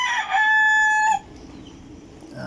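A single loud rooster crow rings out clearly in a backyard chicken flock, followed by quieter background noise and a faint rustle.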